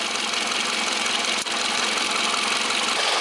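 A car engine idles steadily during an air-conditioning recharge, a constant mid-range running drone close by with no talk over it.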